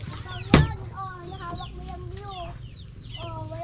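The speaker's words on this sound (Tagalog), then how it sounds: "Manok." A chicken clucks close by in an outdoor setting near the sea, a few short throaty calls after a sharp knock, with faint background voices and chatter.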